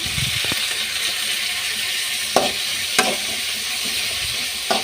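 Tomatoes sautéing with onions in a pan for kurma, a steady background sizzle broken by a few sharp spoon scrapes and taps against the pan.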